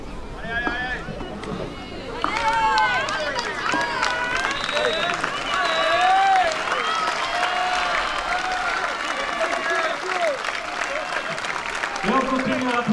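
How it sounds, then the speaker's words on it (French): A crowd applauding to encourage an athlete competing at a Basque strength games event in Saint-Palais, a sustained rumble of clapping under a commentator's voice that swells after a brief lull. "on continue à l'applaudir pour l'encourager, Mathieu"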